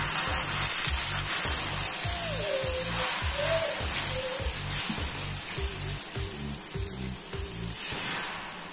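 Omelette mix sizzles in melted butter in a pan, a loud, continuous close-up hiss with a soft rhythmic low bubbling beneath it throughout.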